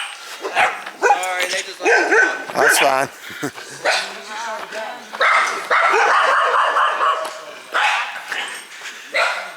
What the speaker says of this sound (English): the dogs occupying that cabin seem to enjoy it